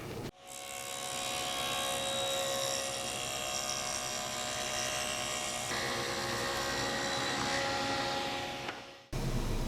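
A table saw steadily cutting a groove along a board, the rip fence set for a second pass, with a loud, even whine running for about nine seconds before cutting off.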